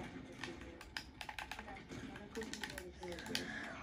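Quick, irregular clatter of laptop keys being typed on, close by, with a voice speaking faintly in the background.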